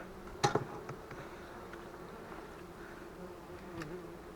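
A dense swarm of wasps drones steadily around beehive frames being checked for wax moth, with a close buzz passing near at the start and a continuous hum throughout, no talking.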